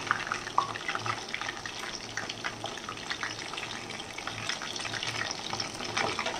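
Butterflied chicken and potato frying together in a pan, giving a continuous bubbling crackle with scattered pops, moderately loud and steady with no talking.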